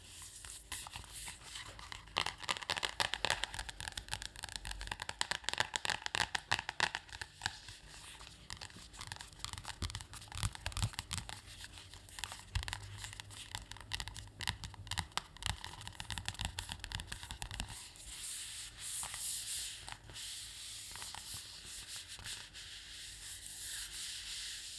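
Glossy pages of a Taschen book on Swedish style being flipped and rubbed, a long run of crisp papery swishes and rustles, close and soft, with no voice.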